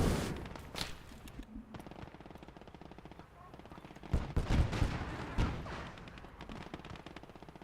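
Gunfire in the WWII strategy game Gates of Hell: Ostfront during a Finland campaign battle, with bursts of machine-gun and rifle fire cracking repeatedly, heaviest around the middle, mixed with distant rumbles and brief speech.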